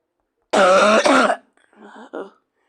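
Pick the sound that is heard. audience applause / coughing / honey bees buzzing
coughing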